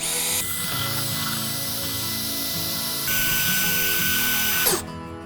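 A power drill with a paddle whirs steadily while mixing a pigmented cobalt concrete coat in a bucket, a loud continuous whine that shifts pitch midway and cuts off abruptly near the end.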